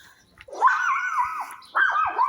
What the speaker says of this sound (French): il y a 2 chiens